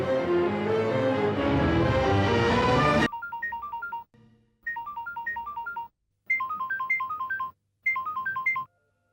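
Phone ringtone playing a bright repeating melody in several bursts separated by short pauses, following a loud noisy stretch at the start.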